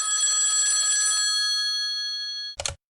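Telephone ringing as a caller phones in to a Hindi call-in programme: one long, bright, close electronic ring that fades slightly, then stops with a brief click near the end.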